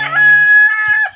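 Rooster crowing at a backyard chicken shelter, one loud close crow with a drawn-out, wavering call lasting about a second, no talking.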